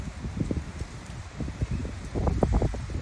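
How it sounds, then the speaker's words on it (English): Outdoor wind gusting against the microphone, a low, rumbling buffet that swells and fades with faint rustling mixed in, growing stronger toward the end, with no voices. "Shout out to the wind for making its presence known."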